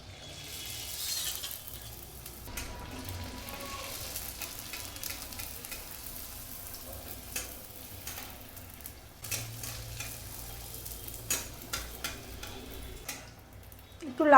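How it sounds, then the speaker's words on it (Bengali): Fuchka, or golgappa puris, deep-fry in smoking-hot oil over high flame with a faint, continuous sizzle, broken by soft scraping and clinks of stirring and a sharper burst of frying at the end. "এবারে ফুচকাগুলো ভেজে নেব"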